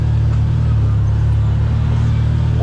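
CFMOTO ZFORCE Sport 4-seater UTV cruising a trail in low gear and two-wheel drive below 20 mph, a loud, constant engine drone with heavy low rumble and steady road noise throughout.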